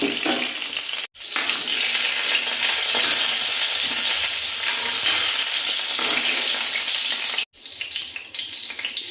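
Bitter gourd fries in hot oil with a loud, steady, dense sizzle, broken by two brief silences, with no talking.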